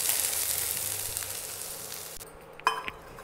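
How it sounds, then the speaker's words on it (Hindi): Green peas frying in oil in a kadai, a steady loud sizzle that fades and thins toward the end, followed by a couple of clear clinks as a spoon strikes the pan. "मटर को भी थोड़ा देर भुने हैं"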